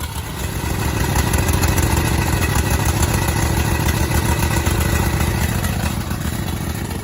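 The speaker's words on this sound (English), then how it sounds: "Today we've got a little twin cylinder Briggs. As you can tell, it's running rich" A small twin-cylinder Briggs mower engine running rich, idling loud and close with a steady, slightly uneven chugging throb and no voices.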